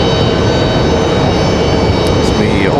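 Frontier Airlines jet taxiing at Raleigh-Durham airport, a steady loud engine whine and roar holding throughout with no break, a person talking faintly underneath.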